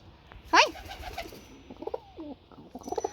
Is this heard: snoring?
no